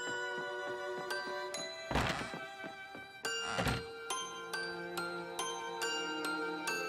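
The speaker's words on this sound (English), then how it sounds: "Cue the explosion noise." Paper Mario: The Thousand-Year Door game audio plays, with two dull booming bursts that evoke explosions amid tinkling, chiming musical notes, moderately quiet overall.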